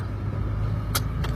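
Steady low engine rumble and road noise from a car driving to an office, continuous and close with a couple of brief higher rattles near the end.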